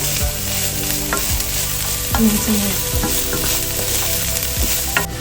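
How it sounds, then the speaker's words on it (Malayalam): Onion, garlic, ginger and tomato sautéing in a pan with a little oil after mustard seeds were popped, giving a steady soft sizzle with repeated spoon stirring and scraping clicks, close and fairly loud, with no talking. "ഞാൻ കടുക് പൊട്ടിച്ച് സവോളയും വെളുത്തുള്ളി ഇഞ്ചിയൊക്കെ ഇട്ട് വഴറ്റി അതിനകത്ത് തക്കാളി ഇട്ട് ഒന്ന് സെറ്റ് ചെയ്തുകൊണ്ടിരിക്കുക"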